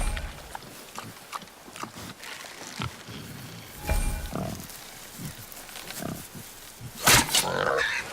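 A wild boar in God of War lets out grunts and snorts, with a few louder squealing bursts near the end, heard alongside game effects and background speech.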